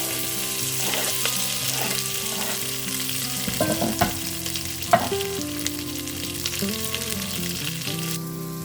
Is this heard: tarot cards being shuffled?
no